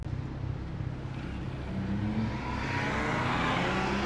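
A Porsche 911 992 Carrera S engine hums steadily and builds slightly in a low, continuous rumble, heard fairly quietly from inside the car with no talking.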